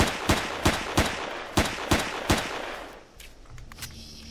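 Enemy gunfire in the game Empyrion, a string of sharp, loud shots at an uneven rhythm, about seven reports over a few seconds, then a quieter mechanical tail.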